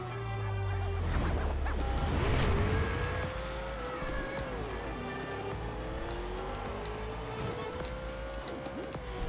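Racing car engines in the video game Forza Horizon 2 roar and whine up through the revs, pitch climbing and shifting as the cars accelerate, loud and close with a busy mechanical hum beneath.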